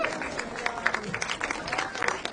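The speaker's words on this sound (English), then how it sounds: "Round of applause for Don." Clapping from an audience at a Texas agriculture commissioner debate, a brief burst of many hands with some crowd noise and faint voices mixed in, moderately loud and continuous.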